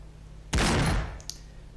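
A single gunshot from the video game Tales of Xillia, one loud sharp blast with a short ringing tail and a faint clack just after, alone with no talk.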